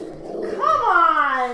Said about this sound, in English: I lost about half of that because of the dog barking